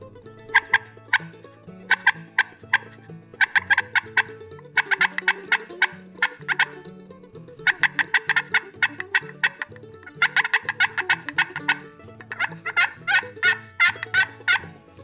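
A hand turkey call worked to imitate a wild turkey gobble, bursts of rapid rattling gobbles repeated in rhythmic clusters with short pauses, close and clear with no talking.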